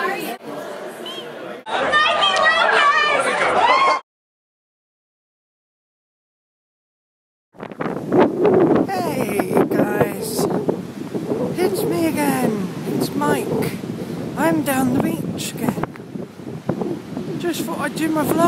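Loud wind buffeting an outdoor microphone, broadband roaring gusts with a sudden dropout to silence for a few seconds, then returning strongly with a voice talking underneath.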